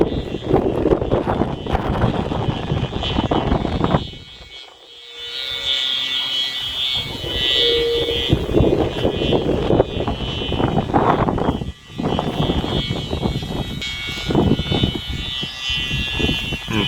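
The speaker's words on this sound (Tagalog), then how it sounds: "Ganyan kalakas yung saranggola niya." Kite flying in strong wind outdoors: a loud, continuous buzzing hum mixed with heavy wind rumble on the microphone, briefly dropping away twice before returning.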